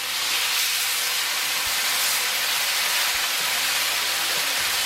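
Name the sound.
beef sizzling while being stir fried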